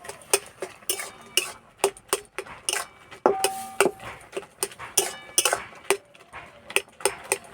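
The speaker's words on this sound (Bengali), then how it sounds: "টমেটো সিদ্ধ হয়ে গেছে এবার দেবো পাকা তেঁতুল টমেটোগুলো এইভাবে ঘেঁটে নেবো" Boiled tomatoes and ripe tamarind are mashed in a pan, giving a run of irregular clinking and scraping taps of a utensil against metal, close and fairly crisp, with no talking.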